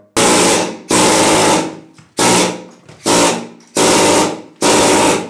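Plaster is chipped off a cut-stone wall in a chateau with a hand tool. Loud, close bursts of scraping and crumbling come in six separate strokes with short pauses between them.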